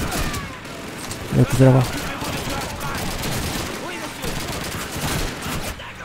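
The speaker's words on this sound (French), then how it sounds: "Je crois que ça tire par derrière, je crois." Distant battlefield gunfire in the World War II shooter Call of Duty 2, with an enemy armored assault underway, a steady crackle of rifle and machine gun fire under excited French voices.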